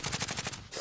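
Automatic gunfire in the battle royale video game Warzone, a brief burst of rapid repeated shots, loud and close, ending abruptly.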